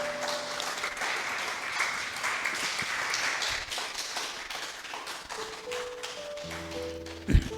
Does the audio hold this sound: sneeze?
no